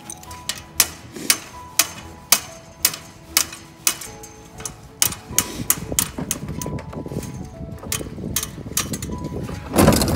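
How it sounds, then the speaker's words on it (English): Nuts being removed from fence bolts with a tool, heard as a steady run of sharp metallic clicks and ticks at close range, followed by denser rattling and a louder scrape at the end. "I am taking off these nuts for the fence"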